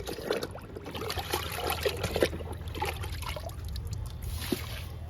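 Liquid trickles and splashes from a container onto the soil of a potted guava plant, an uneven gurgling pour with small splatters, close, with faint background noise.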